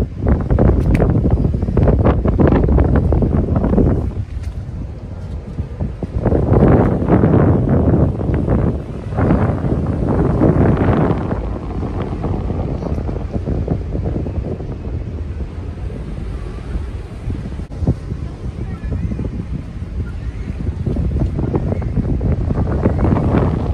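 Cold wind gusts hard across the microphone at the artificial beach in Malé, Maldives, a loud, rough roar that swells and eases in waves throughout.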